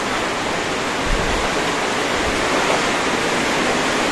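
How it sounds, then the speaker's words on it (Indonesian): Steady, loud roar of a waterfall plunging downward, constant broadband rushing water close by with no voices over it. "dan ada air terjun ke bawah."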